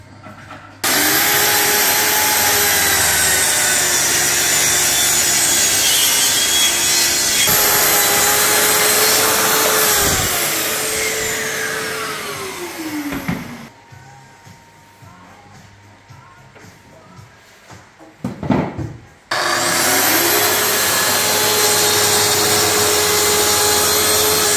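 A plunge track saw cuts a wooden stair tread, its motor whining loud and steady for over ten seconds as the blade runs through, then winds down, pauses with faint handling noises, and starts again.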